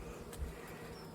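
Honey bees buzz around a newly installed hive outdoors, a steady close, continuous hum with a brief louder pass as one flies near.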